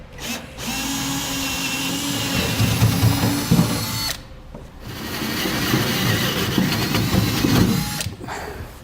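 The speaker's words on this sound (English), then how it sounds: "we'll use a 1/2-inch step bit or a 1/2-inch drill bit to drill straight down through the truck bed" A power drill with a 1/2-inch bit whines loudly in two long bursts, grinding through the metal bed of a 2015 GMC Sierra 3500 pickup truck with a brief pause between them, no voices present.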